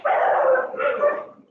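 Dog barking outdoors during rainy weather, a single loud drawn-out bark heard close by, with no talking.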